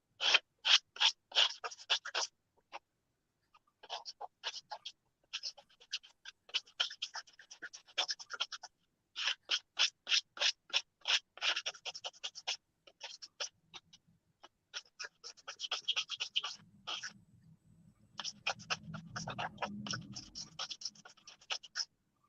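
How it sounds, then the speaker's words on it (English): Rough 80-grit sandpaper scrapes across a dry keyboard in quick rhythmic bursts of back-and-forth strokes, close and crisp, with short pauses between sets and no talking. "And I'm using 80 grit of the paper, so quite rough."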